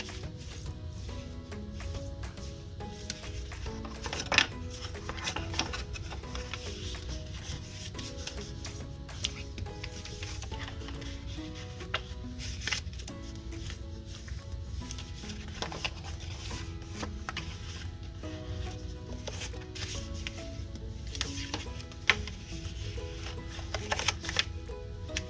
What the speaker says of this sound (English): Now we're going to fold on all of these score lines.